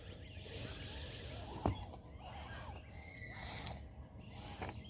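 A voice imitates a lawn sprinkler with soft, breathy whispering hisses in repeated pulses, quiet and close.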